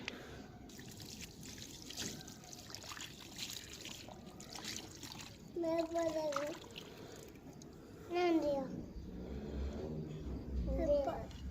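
Water trickles and splashes steadily, close by, onto a potted lemon plant while a person talks over it.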